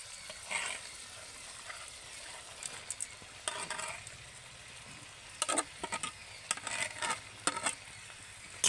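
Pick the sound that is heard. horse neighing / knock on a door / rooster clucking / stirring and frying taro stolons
stirring and frying taro stolons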